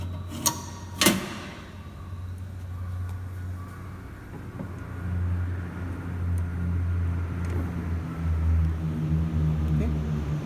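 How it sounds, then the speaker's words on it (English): A DC motor in an electrical machines lab is switched on through a 3-point starter: a couple of sharp clicks, then a steady low hum that builds and settles into continuous running drone. "Okay. The motor has started. See, the motor is running."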